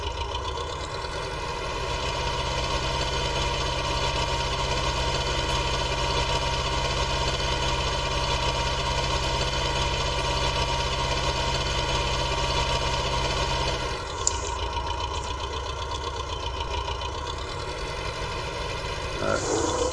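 A cheap tractor idles in a farming video game, its engine giving a steady mid-to-low drone with a constant vibrating hum, a brief click near the end, and no talk over it.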